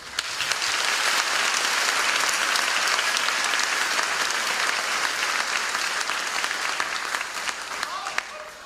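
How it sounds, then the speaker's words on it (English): Sustained applause from a crowd at a high school graduation ceremony, thanking the teachers and staff, rises quickly and stays dense and steady for several seconds before tapering off near the end. "let's hear a round of applause for our staff."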